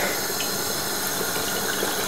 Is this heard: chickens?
no